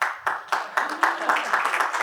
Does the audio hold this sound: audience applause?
yes